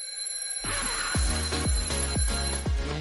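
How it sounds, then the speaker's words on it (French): An alarm clock rings out loudly after a moment of silence, its bright metallic bell clanging in a steady run of repeated strikes that are close and unbroken, with no talking. "Je hais le réveil."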